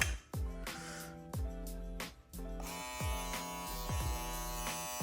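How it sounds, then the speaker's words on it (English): A Supreme Pro electric clipper buzzes with a steady, droning hum, overlaid by repeated low thumping beats at an uneven pace. "Now we have the Supreme Shaver."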